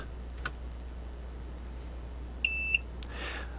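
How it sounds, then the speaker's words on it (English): A short electronic beep from a device as it is plugged into a laptop by USB, thin and faint, near the middle of the clip against quiet room hiss. A couple of soft clicks come before and after. "you'll notice when I plug it in, it'll beep."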